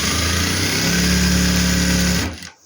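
A sewing machine stitches a farshi salwar, running as a steady, continuous motorized whir for about two seconds, then stopping abruptly; no one talks.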